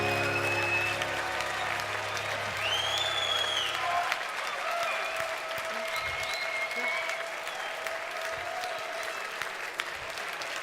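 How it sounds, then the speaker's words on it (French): Audience applause follows a performance of a Poulenc song by two musicians, one of them a pianist. Steady, dense clapping fills the room throughout, with faint crowd murmur beneath it. "Merci d'applaudir Karina Viennard et Elisabeth Venner"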